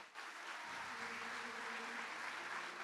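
Audience applause at a Spanish-language business presentation, a fairly faint, even wash of clapping that starts abruptly and holds steady, with a low sustained tone underneath and no voices.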